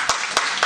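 Three sparse, separate claps ring out over a steady hum of the room at a comedy club on La Réunion, where a few audience members respond alone.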